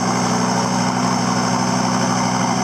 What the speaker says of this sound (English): Now you can really hear that turbo with that muffler being removed.